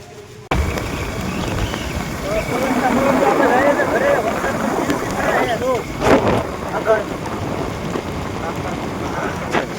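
Heavy rain pours steadily outdoors during a monsoon downpour, a broad constant wash that starts abruptly and stays loud throughout, with people talking over it.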